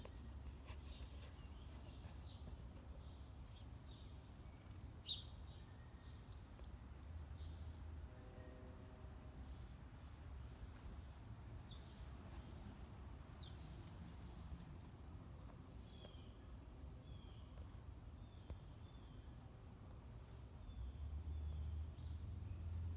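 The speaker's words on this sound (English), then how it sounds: "That big one's a starling." Scattered bird chirps and song phrases, a starling among them, sound faint and fairly distant over a low outdoor rumble, with no talking.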